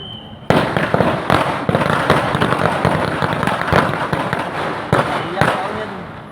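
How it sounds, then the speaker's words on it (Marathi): Victory firecrackers bursting at an election rally held at a roadside junction in Kolad, a rapid string of sharp, loud cracks and pops continuing steadily after an abrupt start, with crowd noise beneath. "हे विजयाचे फटाके आहेत."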